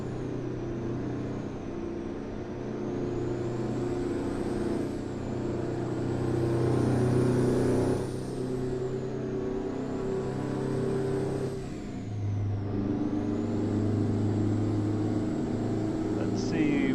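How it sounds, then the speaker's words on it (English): A Freightliner FLD truck engine in American Truck Simulator drones loudly and steadily, its pitch dipping and recovering several times as the gears change. "Truck's probably loud because it's probably got holes in the exhaust."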